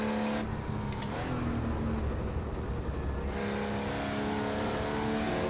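Porsche 964 Carrera Cup race car engine running steadily at a moderate distance, a sustained droning tone with a brief rising rev near the start, fairly faint and with no voices.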